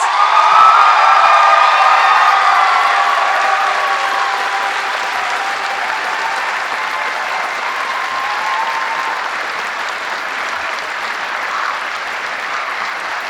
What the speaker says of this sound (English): Let's give them a well-deserved round of applause.